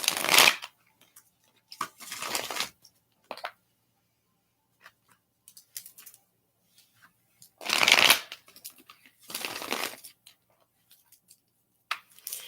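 Tarot cards are shuffled in several quick riffling bursts separated by pauses, close and crisp, with light tapping between.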